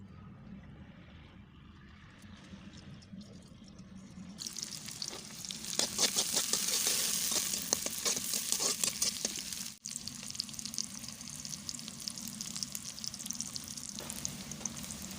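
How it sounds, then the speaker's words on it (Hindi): Onions sizzle steadily while frying in a pan, with a spoon scraping and stirring through them in rapid bursts, close and continuous with no talking. "देखिए, प्याज हमारे भुन गए हैं।"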